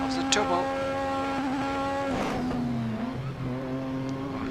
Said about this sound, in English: hearing the sound of the engine